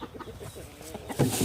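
Free-range chickens cluck softly while eating larvae, with short, close, irregular clucks and bird calls. A louder, sustained call rises near the end.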